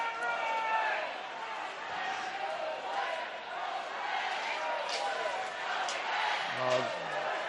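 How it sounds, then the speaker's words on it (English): Ice hockey arena crowd keeping up a rhythmic 'go red, go white' chant during a college men's game, a broad roar of many voices rising and falling steadily beneath a commentator's talk. "They got the go red, go white cheer going"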